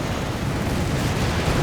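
Artillery bombardment in the World War II strategy game Company of Heroes 3, a continuous heavy rumble of overlapping blasts filling the low end, loud and unbroken with no voices.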